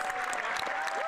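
Canadian Parliament members on the Liberal side clapping and cheering in the House of Commons, a brief burst of dense, steady applause from a crowd.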